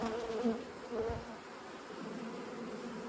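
Honey bees buzz steadily at low volume at a hive entrance, a dense droning hum with a few individual insects passing close.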